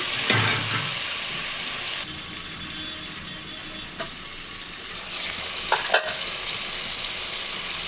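Drumstick pieces and potatoes cook in oil in a covered pan, giving an even, continuous sizzle with a few soft clicks and knocks scattered through it.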